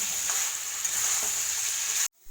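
Mutton sizzling as it is stir-fried in an open pan for a spiced Bengali mutton curry, a steady close hiss that cuts off abruptly near the end.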